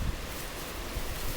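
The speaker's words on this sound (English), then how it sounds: "I keep being afraid that this camera is going to get knocked right off of where it is. It's this windy." Strong wind buffeting a camera set up outdoors, a continuous low rumbling roar and hiss with occasional heavier gusts thumping the microphone, no voice present.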